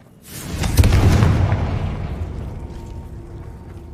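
Confringo spell blast in the video game Hogwarts Legacy: a sudden loud booming explosion with a crackling burst that rolls off into a long fading rumble, heard alone.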